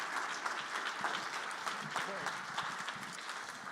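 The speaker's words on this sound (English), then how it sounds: "Give them a huge round of applause." An audience at a CES NeuroTech 2025 panel on brain-computer interfaces applauds to welcome the panelists, with a steady moderate clapping wash and a few sharper claps. Faint voices sound underneath.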